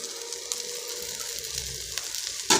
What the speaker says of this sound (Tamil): இப்போ எல்லாத்தையும் கொஞ்சம் கிளறி கொடுத்துடலாம். இப்போ பாருங்கள் ஃப்ரெண்ட்ஸ், இது வதங்கிடுச்சு.